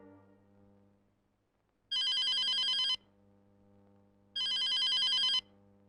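A telephone in a hospital ward rings twice in long electronic bursts about a second each, separated by a quiet pause over a faint steady hum.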